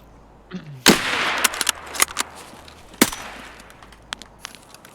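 Gunfire in a firefight in the game Escape from Tarkov, a loud sharp report followed by a scattered series of single shots and a few distant pops.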